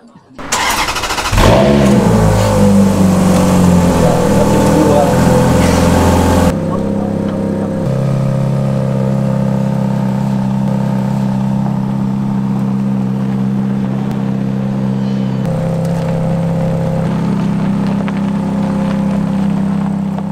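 Michael Schumacher's former 490-horsepower Ferrari F430 fires up with a sharp starter bark and surges into loud revs, then settles into a deep, rumbling idle that swells slightly near the end, close and dominant.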